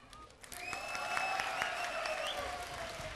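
An audience claps at a children's annual day dance show, with steady applause swelling after a quiet start and holding through to the end, mixed with some higher tones.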